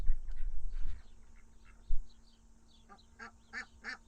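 Ducks kept at a homestead pond near a chicken coop give a few short, moderately loud quacks in quick succession toward the end, after a stretch of quiet outdoor ambience and some low rumble.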